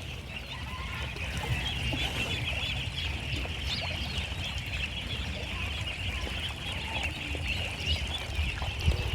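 Ducks on a duck farm quack and murmur in a continuous busy chorus, mixed with a steady high-pitched chirping and a low rumbling background throughout.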